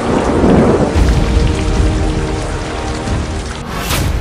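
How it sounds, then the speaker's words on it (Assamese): Heavy monsoon rain pours down in a steady loud roar, with rolling thunder rumbling beneath it and a sharp crack near the end. "বেছি পৰিমাণে ৰাজ্যত অব্যাহত বৰষুণ"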